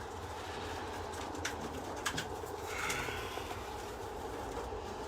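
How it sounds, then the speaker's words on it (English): Racing pigeons coo and shuffle in a loft, a steady busy murmur of soft calls with a few sharper flutters and knocks, fairly close and with no one speaking. "We're racing pigeons."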